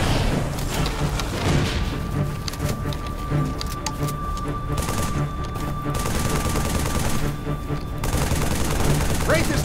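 Continuous gunfire and heavy explosions from bombardment by a Wraith tank in the Halo 3 video game, a dense, loud battle din lasting throughout with bursts of automatic fire and booms, with voices calling out beneath it.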